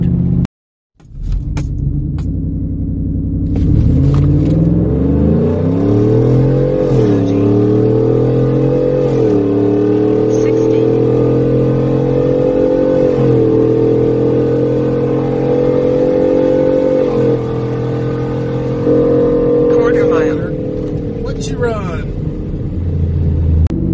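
A Ford F-150 with a Coyote V8, stock tune, muffler delete and alcohol-blend fuel, roars through a hard drag run, its loud exhaust climbing steadily through the gears with brief dips at shifts, sustained and close.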